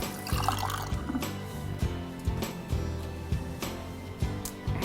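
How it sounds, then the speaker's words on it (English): Tap water runs and splashes quietly while hands are rinsed in a kitchen during biscotti baking, a soft continuous stream with small irregular spatters, no talk. "Rinse my hands off."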